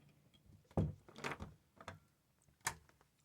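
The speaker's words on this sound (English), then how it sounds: "Shutting the door behind me." A bathroom door is pushed shut up close, with a sharp thud followed by softer knocks and a final latch click, all fairly quiet with no talking.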